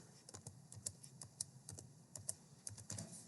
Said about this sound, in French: Lorsque j'écris formule, j'appuie sur CTRL Entrée